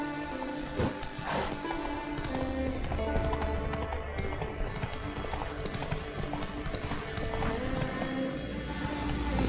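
Horse hooves clip-clopping steadily in The Witcher 3, a steady galloping rhythm over game music and ambience, with a brief whinny-like sound early on and no speech.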